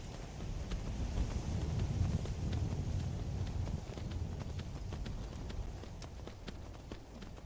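In the video game Skyrim, a horse's hooves clop at a steady trotting pace over a soft, windy outdoor ambience. The hoofbeats are quiet and regular, with no voices.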